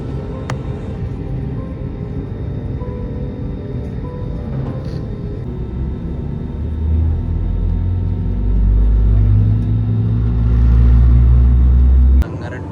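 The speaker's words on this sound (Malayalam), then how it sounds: "എഞ്ചിൻ ഓൺ ആക്കി സൗണ്ട് കിട്ടും." A passenger airliner's engine spins up as heard from a cabin seat right beside the engine, a low rumble that swells steadily over several seconds, grows louder, then cuts off abruptly.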